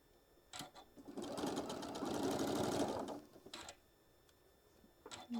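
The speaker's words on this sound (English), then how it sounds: "And stitch across." A sewing machine runs in one steady stitching burst of about two seconds as it sews across a strip of fabric for a quilt subscription box, close and clear, with a few soft handling clicks before and after.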